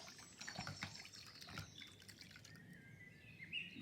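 Wet felt rinsed in a basin of water to flush out soap, giving soft close splashing and dripping with a faint tap-like trickle, steady throughout with no talk.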